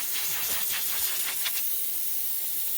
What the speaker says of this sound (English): You can hear the torch here.